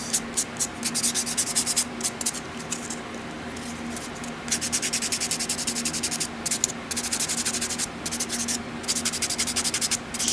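A buffer rubs over acrylic nails in fast, steady back-and-forth strokes, a close, continuous dry scratching with short breaks in the rhythm.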